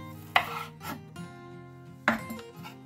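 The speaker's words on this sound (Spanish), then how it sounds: "Cortamos también muy pequeñito el pimiento" A knife finely chops bell pepper on a cutting board, two distinct sharp strikes a second or so apart, quiet and close against a faint background hum.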